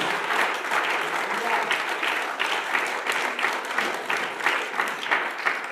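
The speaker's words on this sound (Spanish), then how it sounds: "Denle un aplauso fuerte a la presencia de nuestro Dios." A church congregation claps loudly and steadily for nearly six seconds, a dense, continuous wall of applause with voices mixed in among the crowd.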